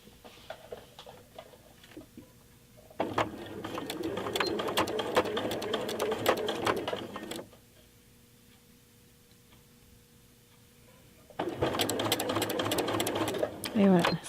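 A sewing machine runs a straight stitch on a jacket in two loud, rapid bursts of stitching separated by a quiet pause, with someone speaking French between and around them.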